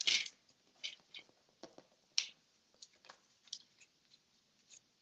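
Scissors cutting paper card stock for a pop-up card base, a series of crisp close snips and rustles, some louder, in a quiet room.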